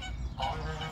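A goose circling a coot's nest gives a short nasal honk, fairly close, over a low background murmur.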